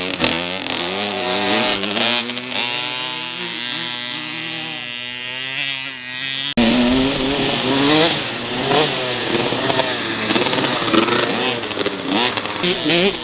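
A motocross dirt bike engine buzzes and revs hard at wide-open throttle during practice on a hill, its high whine rising and holding under excited shouting from nearby spectators.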